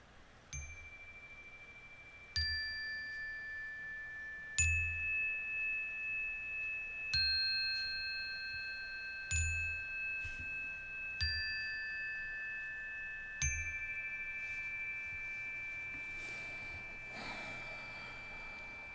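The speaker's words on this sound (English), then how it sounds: "I've started playing not the wind chimes, just the chimes to begin." Chimes are struck one at a time, about seven bright ringing notes spaced a couple of seconds apart, each decaying slowly and overlapping the next, clear and close over a quiet background with no talking.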